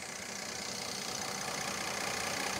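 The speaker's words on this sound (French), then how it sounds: "C'est un moteur essence, mais le système d'injection directe d'essence fait qu'on dirait un moteur diesel." A 306-horsepower six-cylinder direct-injection petrol engine idles with a diesel-like clatter, a steady, fairly faint ticking rumble with no talk over it.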